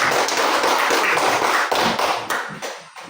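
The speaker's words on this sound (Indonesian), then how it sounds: "Tepuk tangan dulu." A group of schoolchildren clap their hands together in a classroom, a dense, loud burst of applause that runs on for a few seconds and then tapers off near the end.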